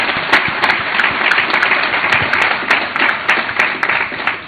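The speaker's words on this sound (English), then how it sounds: "May we clap for our business community" An audience at a Ghanaian business and textile industry event applauds its business community with a steady, dense wash of clapping. Sharp individual claps stand out against the roar throughout.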